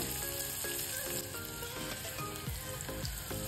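Finely chopped onion and curry leaves sizzle in hot oil for a masale bhat, a dense continuous crackle with bright sputtering and a few spoon scrapes, close and steady, no talking.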